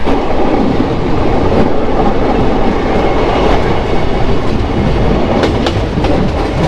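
The Hazarduari Express from Kolkata to Murshidabad runs at speed, heard from a crowded spot near the carriage door: a loud, constant roar of wheels and rattling cars with rhythmic clicks over the rails.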